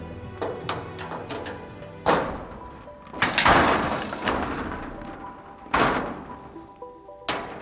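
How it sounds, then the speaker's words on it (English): A metal door from a Rittal TS 8 enclosure is handled and set down, producing several separate hollow thumps and clanks spread out unevenly, with quieter taps and rustling in between. "And I can set the door aside."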